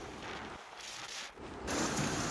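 Heavy monsoon rain driven by strong wind in flooded Suigam, Banaskantha, a dense, loud roaring wash that swells and dips briefly before growing stronger at the end.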